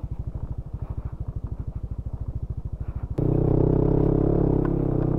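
Motorcycle engine on a newly built rural road between San Joaquin, Iloilo and Sibalom, Antique, first a steady pulsing putter, then abruptly louder with broadband wind and road rumble as the ride picks up speed.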